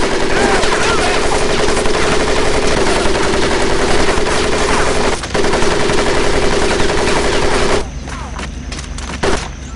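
Sustained machine gun fire from a Medal of Honor: Pacific Assault boot camp training course, loud and continuous for most of the clip, with a brief pause midway before cutting off into quieter battlefield ambience near the end.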